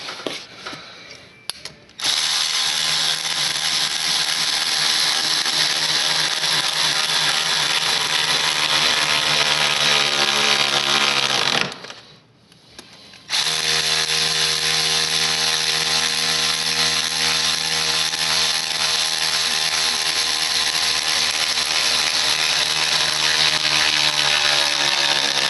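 A power tool tightens 10mm bolts on a Cummins cold air intake, whirring loud and continuously for a long stretch with one short pause midway before it resumes.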